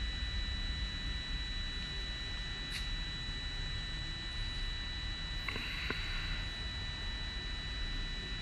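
A DJI Mavic Pro drone in flight gives a constant, fairly quiet airy whir with a thin high-pitched propeller whine steady throughout.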